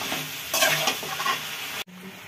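Cabbage, capsicum and spring onion stir-fried in a hot pan for a Chinese-style vegetable dish, with loud sizzling and vigorous scraping strokes near the mic, ending in an abrupt cut then quieter sizzle.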